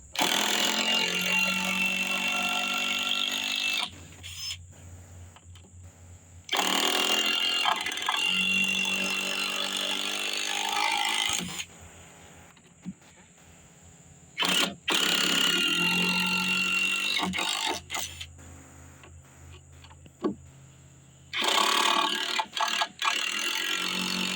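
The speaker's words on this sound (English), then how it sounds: "we're going to drill straight down into that" An electric drill drills straight down into a wooden board in several long bursts separated by pauses, a close, buzzing mechanical whine with clicks between runs.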